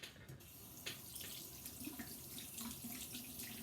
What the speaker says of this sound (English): And so now I'm gonna rinse this real quick.